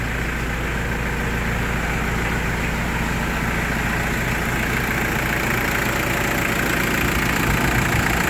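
A Mitsubishi Pajero diesel engine idles at close range with a loud, steady, rough chugging rumble and faint knocking, unchanging throughout.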